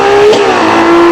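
A Ferrari V12 hypercar engine howls at high revs, with a quick break in pitch as a gear shift snaps through, then the note settles lower and continues loud and close.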